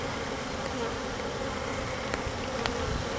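A steady, dense buzzing of many bees close by, continuous and fairly loud, with a few faint clicks and no voices.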